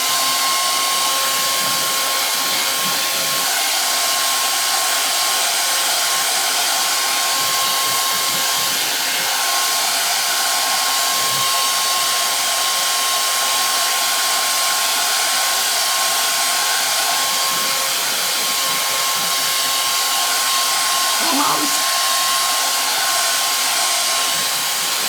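A hair dryer drying stencil paint runs in one loud, steady whooshing whine from start to finish, with only faint handling noises underneath.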